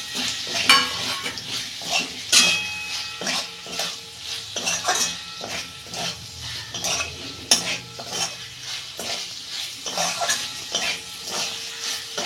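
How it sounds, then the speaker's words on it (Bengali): Prawns sizzle in a pan on a gas stove in a home kitchen while a utensil stirs and scrapes, giving repeated clinks and scrapes over a steady frying hiss, with no talking. "এই যে চিংড়ি মাছটা দিয়ে দিচ্ছি"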